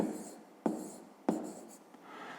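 Pen on paper while writing out sums of numbers for a fifth-grade maths exercise, producing close, soft scratchy strokes with a few sharper taps as the pen touches down, in a quiet room with no talk.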